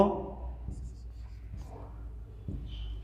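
A teacher writes on a board during a fourth-grade maths lesson, with soft intermittent scratching strokes heard faintly alongside quiet speech.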